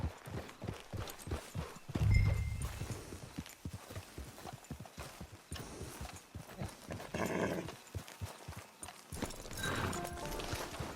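Horse hooves clip-clop in a steady rhythmic gait, moderately close, with a brief whinny-like sound and some background ambience, from the video game Red Dead Redemption 2.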